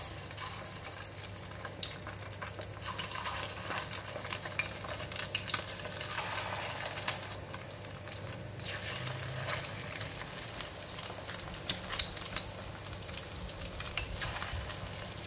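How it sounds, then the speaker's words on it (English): Black pepper fishcake frying in hot oil, a continuous dense crackle and hiss with fine popping spatters, steady and close throughout with no talk. "drop it in the hot oil"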